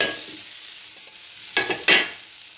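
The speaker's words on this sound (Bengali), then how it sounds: "পনিরটাকে, এই 200 গ্রাম পনিরটাকে আমি ভেজে নেব" Paneer frying in a little white oil with salt and turmeric, a faint steady sizzle broken by two sharper bursts of spitting as pieces go into the pan.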